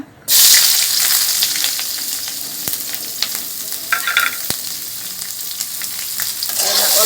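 Chopped onion hits hot oil in a wok and erupts into a loud, close sizzle that holds steady and dense throughout, broken by a few sharp clicks of a spoon against the metal.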